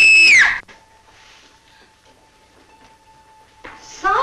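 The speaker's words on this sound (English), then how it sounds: "That scream you let out sounded like you were being murdered." A woman lets out a loud terrified scream that falls off within half a second, followed by a quiet stretch with a faint steady tone before another sharp sound at the end.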